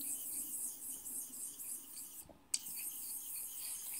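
Steel blade worked in circular strokes on a large Okudo Suita natural bench stone, a soft continuous wet rasping rub with a brief pause and a small click partway through.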